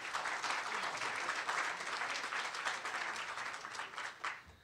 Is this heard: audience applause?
yes